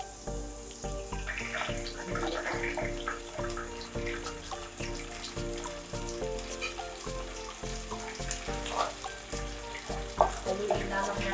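Canned tuna sizzles and crackles in a hot pan with sautéed garlic and onion, a steady frying hiss with scattered pops and stirring scrapes, close and continuous.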